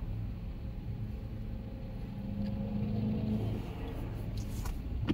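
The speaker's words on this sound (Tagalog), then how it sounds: "Ganito po sa araw-araw traffic" Everyday street traffic beside a roadworks section where cement has been sawn, heard as a steady low rumble of passing cars and engines with a faint engine drone running beneath.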